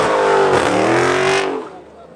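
Car engine revving hard during a burnout on private property, loud and sustained with rising pitch sweeps, then dropping away near the end; voices speak faintly under the roar.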